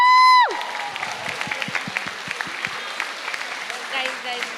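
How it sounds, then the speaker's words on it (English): Loud applause and cheering from a crowd at an annual cultural program, with dense clapping and scattered whoops following a brief announcer's voice that ends at the start. "A big round of applause for them."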